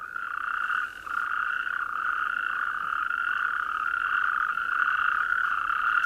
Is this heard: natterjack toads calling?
yes